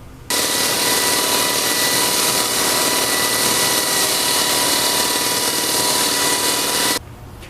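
A Scarab handheld grinder fitted with 50-grit hybrid tooling cuts a concrete floor, a loud, constant motor whine and grinding roar that starts abruptly, holds steady for about seven seconds, then stops.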